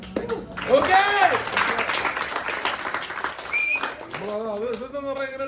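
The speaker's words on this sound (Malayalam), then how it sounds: "കൈയടി ഇങ്ങനെ കേറി വരണം." A theater audience claps and cheers during a surprise cast visit, a broad, crowded wash of applause rising early and holding for a few seconds while voices shout and talk over it.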